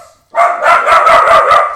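A dog barks loudly and close by, a rapid run of about five or six sharp barks in quick succession, heard alone.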